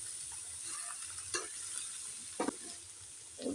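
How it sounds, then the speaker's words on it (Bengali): Garlic with green and red chilies frying in oil for an amra pickle, a faint continuous sizzle with a few brief stirring scrapes, close but quiet, no speech. "এখন এগুলো একটু ভেজে নিচ্ছি, রসুনগুলো, কাঁচামরিচ, লাল মরিচগুলো একটু ভেজে তারপর আমড়াগুলো দিয়ে দিই।"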